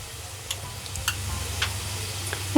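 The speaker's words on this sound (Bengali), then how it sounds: "পেঁয়াজটা এখানে ভাজা হতে থাকুক" Chopped onion frying in a pan for egg tadka, a soft continuous sizzle up close with a few faint clicks of utensils scattered through, no one speaking.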